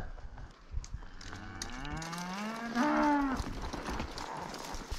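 Cattle mooing nearby among trees, a long low call that rises and holds, with softer lowing around it and rustling in the background.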